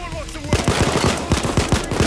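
Rapid automatic gunfire from the video game Payday 2, a loud close burst of sharp repeated shots that starts abruptly and continues steadily for about a second and a half.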